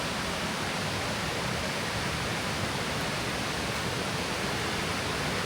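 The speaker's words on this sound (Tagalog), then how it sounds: "maririnig nyo na po yung pagaspas ng tubig" A stream near Berong, Quezon, Palawan rushes steadily as a dense, even wash of water noise, constant and fairly close with no breaks.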